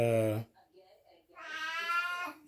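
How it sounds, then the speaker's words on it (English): A cat meows twice, close and loud: a short high cry, a brief pause, then a longer drawn-out wail. "hush kitty"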